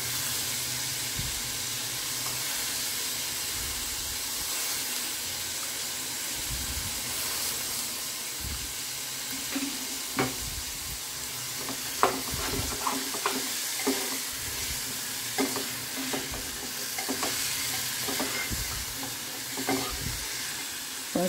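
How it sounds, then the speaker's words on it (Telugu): Cauliflower deep frying in oil in a home kitchen: a continuous hissing sizzle with scattered soft pops and occasional stirring clinks, steady and close throughout. "కాలీఫ్లవర్ డీప్ ఫ్రై 2 చేస్తున్నా."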